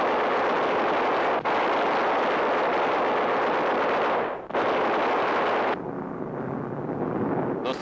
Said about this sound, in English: the freighter is crippled by the explosion